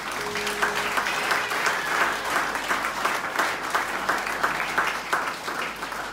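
A crowd at a New Year's Eve celebration applauds loudly and steadily with some cheering, a dense continuous wash of clapping that holds at full strength for the whole stretch.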